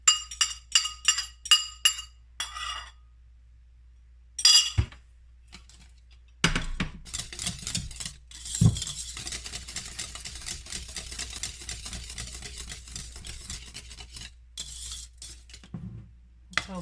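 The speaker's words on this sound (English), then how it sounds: "before we add them, we have to first whisk them along" Eggs are whisked in a bowl with quick rhythmic clinking taps against the side, then after a pause a longer stretch of rapid scraping and ticking whisk strokes at close range.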